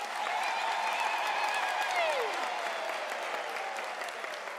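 A large graduation audience at a University of South Africa autumn ceremony applauds the diploma graduates, a dense, steady wash of clapping throughout, with faint tonal sounds running beneath it.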